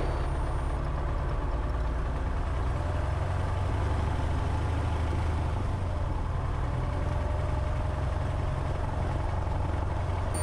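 A Cessna 170 light aircraft engine idles steadily during a pre-takeoff run-up, a continuous low droning rumble held at an even level throughout, with no talk over it.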